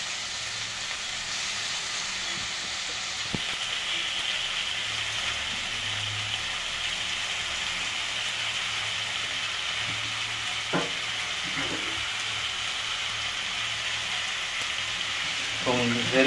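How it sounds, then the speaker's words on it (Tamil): Tomatoes sauté in oil in a pan for an egg and capsicum stir-fry, giving a steady, gentle sizzling hiss that runs throughout with a couple of faint clicks, close by and quiet. "தக்காளி போட்டு அதுவும் நல்லா எண்ணெயில் வதங்கணும்."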